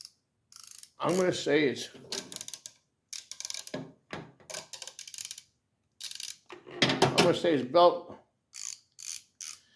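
A Kobalt 24-inch 1/2-inch-drive flex-head ratchet clicking close up in several bursts of rapid pawl ticks, with someone speaking briefly between the bursts.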